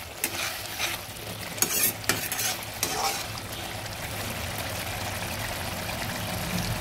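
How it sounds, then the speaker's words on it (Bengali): Katla fish curry with yogurt and cashew is stirred in a hot pan over raised heat, a steady sizzle and bubbling with scraping spoon strokes and clinks near the start, loud and close, with no talking. "আঁচটা বাড়িয়ে দিয়ে এবার নেড়ে দিচ্ছি।"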